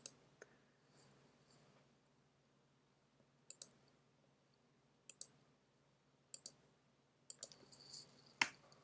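A computer mouse clicks sharply in a quiet room, first in single clicks, then in paired clicks spaced a second or so apart, and finally in a quicker cluster of clicks.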